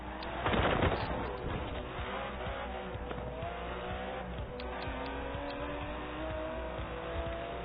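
Aston Martin DB11 with a 5.2-litre twin-turbo V12 passes at speed, a loud engine roar swelling near the start and then holding a steady, sustained drone, with faint tyre noise and no talk.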